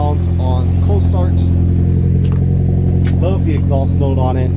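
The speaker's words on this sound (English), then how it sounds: "So this is how she sounds on cold start." A Mitsubishi Ralliart's engine idles loudly and steadily on a cold start with a deep, even rumble, while a person talks over it.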